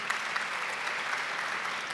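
Dense, steady applause from a concert audience welcoming honors concert directors, a continuous even patter of many hands at moderate distance with no voices over it.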